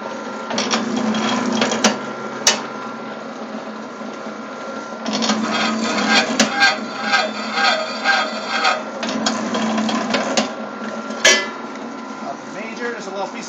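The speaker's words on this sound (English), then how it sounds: "There's a little piece of copper cut in the wheel, spits it right out." A WS-0251 scrap copper wire stripping machine runs steadily, its rattling, whirring mechanical noise continuous throughout with occasional sharp clicks, while someone talks over it.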